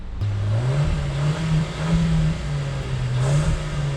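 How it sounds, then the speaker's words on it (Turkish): A Hyundai Bayon's 1.4-litre naturally aspirated engine revs steadily at idle-to-mid range, its low droning pitch rising and falling in a few gentle swells, close by and loud throughout. "Şöyle bir motor sesini dinleteyim size."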